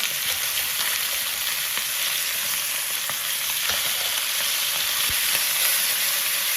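Freshly flipped BBQ pork chops sizzle loudly and steadily in a pan, a dense crackling hiss with a few sharper pops and no talking.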